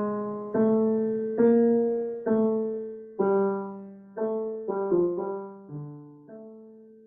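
A single melodic line, the tenor part of a four-part harmony, plays as a sequence of about ten sustained, harmonically rich notes in a steady rhythm. It sounds clear and close, with no voices.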